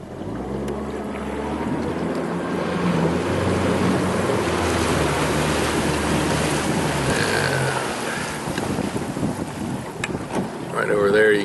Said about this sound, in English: he's having to back up to clear the prop.